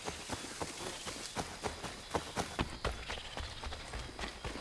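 A horse galloping in Assassin's Creed 3, a rapid, even run of hoofbeats pounding close and fairly loud throughout, with a faint background bed of game ambience.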